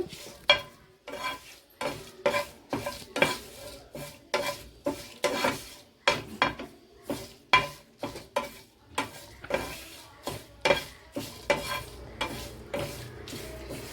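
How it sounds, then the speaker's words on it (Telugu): Dried prawns and curry leaves dry-roasting on a low flame, with a spoon scraping and stirring in steady rhythmic strokes through a faint crackle, close and moderately loud. "అన్నీ కూడా సిమ్లోనే దోరగా వేయించుకోవాలండి"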